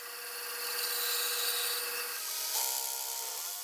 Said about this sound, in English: For the short boards, I'll use a bandsaw to trim the tenons to size.